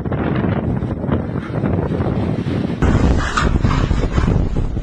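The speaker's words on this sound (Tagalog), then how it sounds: "Rinig na rinig ang pagugupit ng malakas na hangin na sinabayan pa ng ulan sa bahagi ito ng Batanes" Strong typhoon wind in Batanes during Typhoon Julian roars continuously against the microphone, loud and buffeting, with rain mixed in and a harsher gust surging midway.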